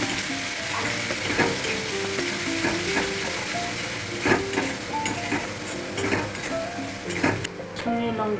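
Bombay duck fish with turmeric, salt and spices sizzles steadily in a hot pan, with frequent scraping clicks and clinks of a spatula stirring against the metal throughout.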